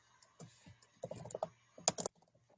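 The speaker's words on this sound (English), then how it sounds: "Now that I have typed up the first event" Keys tapped on a computer keyboard in short bursts, quiet and close, with a louder cluster of rapid strokes near the end and no talking.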